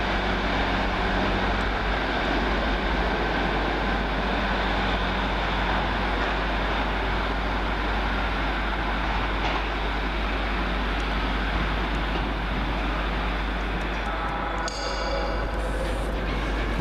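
Northern Rail train 156481 at a Carlisle station platform, running the service to Barrow-in-Furness via the Cumbrian coast: a loud, steady engine rumble and broadband roar held close for the whole stretch, with a faint higher squeal near the end.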